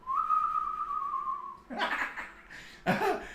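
A single sustained whistled tone holds steady for over a second, then gives way to bursts of laughter and giggling.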